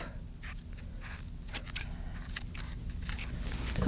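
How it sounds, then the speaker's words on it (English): Scissors snip off the extra threads of a homemade fabric face mask in several close, quiet cuts spread over a few seconds, with light rustling of the fabric in between. "you have some extra threads, you can just cut off"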